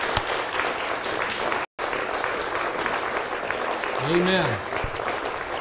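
A congregation applauds those who served in the armed forces, a broad sustained clapping crowd that runs nearly throughout, briefly cut out once, with a voice speaking near the end.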